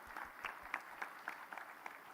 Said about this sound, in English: I think we should applaud MIT and Amitesh ji sitting here.